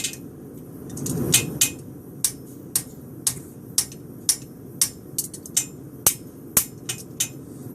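Hammer striking hot steel bar stock on an anvil with a fuller while forging a straight bar horseshoe, a dozen sharp metallic rings in a steady rhythm, close and clear, with a low rumble underneath.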